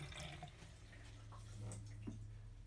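Cold water runs faintly from a sink tap in a 1969 Fireball trailer, a soft continuous trickle with a few light drips against a quiet background hum.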